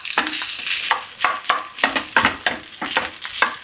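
Spoon stirring garlic fried rice with butter in a hot pan, a run of close, rhythmic scraping strokes roughly every half second over a steady soft sizzle.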